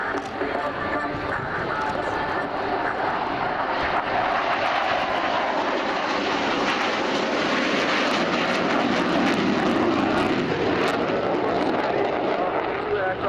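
Military basic training jets fly a formation display pass at an air show, a loud continuous engine roar swelling and holding throughout.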